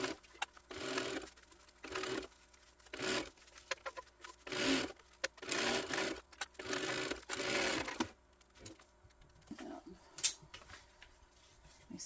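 A sewing machine basting around the edges of a fabric hip bag, running in repeated bursts of steady whirring stitching with short pauses between, close and moderately loud, ending with softer handling sounds.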